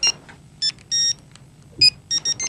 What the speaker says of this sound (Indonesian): SMS-nya masuk nih.